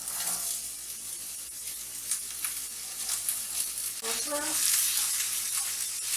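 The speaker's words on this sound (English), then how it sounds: "Let this saute a little bit" Carrot, zucchini and onion sauté in a pan with a steady sizzle and occasional stirring scrapes, close and fairly loud, the frying swelling a little toward the end; faint voice-like tones sit under it.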